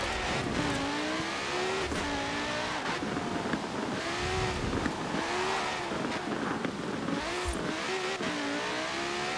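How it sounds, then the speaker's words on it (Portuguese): Lamborghini Sesto Elemento revving hard in Forza Horizon 4, its engine note climbing and dropping through repeated gear changes on a long straight, loud and continuous with a brief tire squeal. "Bora que eu tô acelerando quente"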